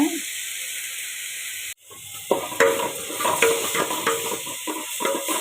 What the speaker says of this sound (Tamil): தக்காளி நல்லா வதங்கட்டுங்க